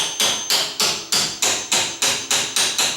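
Hammer tapping a door hinge pin, nine sharp metallic strikes in a steady, evenly spaced rhythm, loud and close, each ringing briefly before the next, with no talking.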